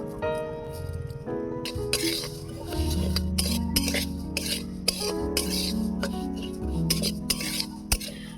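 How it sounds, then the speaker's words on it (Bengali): Whole cumin seeds dry roast in a pan with scraping and light clinking of a utensil stirring against the metal, steady and close, with occasional sharper taps. "প্রথমে জিরেটা ভেজে নেব।"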